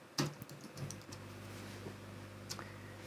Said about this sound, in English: Let's type the correct thing.